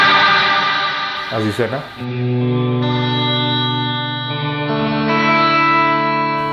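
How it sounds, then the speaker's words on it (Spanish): Electric guitar chord through a Valeton Dapper MDR pedal on its room reverb setting, ringing with a lingering wash of ambience; a brief spoken phrase cuts in near the start before the sustained chord continues to decay. "Si yo le doy más reverb,"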